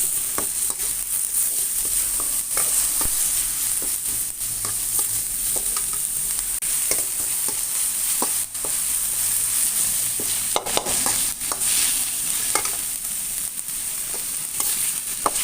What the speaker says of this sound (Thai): ผัดหอมเลยนะจ๊ะ